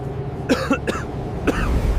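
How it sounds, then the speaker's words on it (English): Three sharp coughs from one person with tuberculosis, two in quick succession and a third a moment later, loud and close over a low background hum. "A passenger nearby had a persistent cough"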